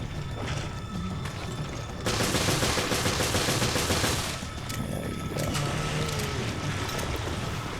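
Continuous gunfire from a weak handgun in the video game Resident Evil Revelations, Raid Mode, sounding as a dense, loud burst of rapid shots over steady game noise, heaviest for about two seconds midway.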